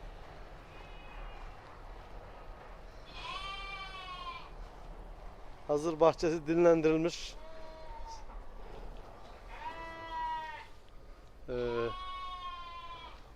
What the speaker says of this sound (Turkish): koyunlar kuzular var.